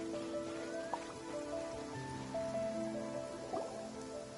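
Steady rain downpour in Genshin Impact, a dense hiss of drops pattering on surfaces with a few brighter drip accents, soft game music tones underneath, continuous and even throughout with no talking.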